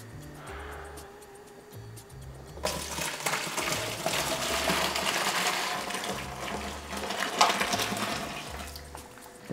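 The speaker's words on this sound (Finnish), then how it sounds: "Nyt me ollaan valmiit kaataa nesteet tonne" Liquid pours steadily into a mead fermentation vessel, a broad rushing wash that starts abruptly and continues close and fairly loud, with a low hum running underneath throughout.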